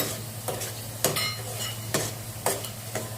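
Homemade masala sautéing in oil for a spicy mutton rassa curry, the paste just starting to release its oil: a steady low sizzle broken by several sharp scraping strokes of a spoon across the pan, close and clear, with no voices.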